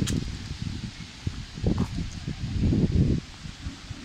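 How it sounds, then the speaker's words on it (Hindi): Fallen tree leaves being swept up by a worker at the King Abdul Aziz Historical Center in Riyadh, with close, irregular scraping and rustling strokes that swell and fade. "पत्तों की सफाई हो रही है यहाँ पे माशाल्लाह से"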